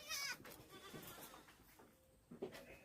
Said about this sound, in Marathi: हे बघा बकरी, हे बोकड.